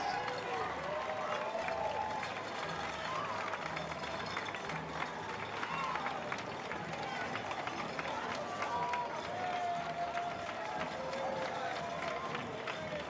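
A parade crowd outdoors claps and cheers steadily, broad applause mixed with voices and background chatter running the whole time.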